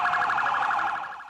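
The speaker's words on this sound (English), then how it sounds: "A city of sirens" A siren wails in a rapid rising-and-falling pattern in New York City, loud and close, fading slightly at the end.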